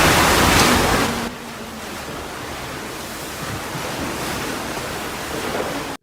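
Storm floodwater in Naples, Florida pouring down stairs and rushing past like a river, a loud continuous wash with gusty wind, heaviest at the start then settling into a steady roar.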